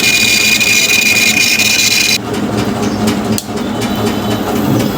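A hard disk drive spins up at high speed after being switched on, giving a steady high whine over a broad hiss for about two seconds before the sound drops to a lower, rougher hum.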